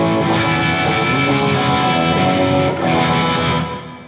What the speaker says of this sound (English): I'll kick on my direct drive by Barber Electronics for that.